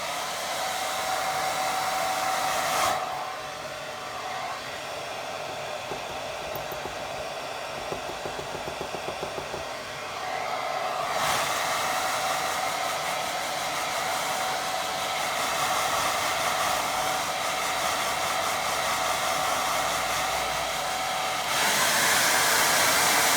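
A hair dryer blows on a watercolour painting of a bluebell lake, a loud steady whirring drone that drops to a lower setting for a while, then rises again, alone without talk.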